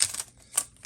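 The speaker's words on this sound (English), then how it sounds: "Okay, so now I got this tape on here we gotta get rid of." Tape being pulled off a painted 3D model of Superman, heard as two short crackling peeling bursts close up in a quiet room.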